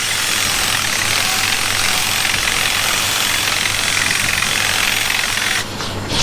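A battery drill fitted with a Tailwell trimmer runs continuously while trimming a cow's tail, giving a loud, steady buzzing whir close by that dips briefly just before the end.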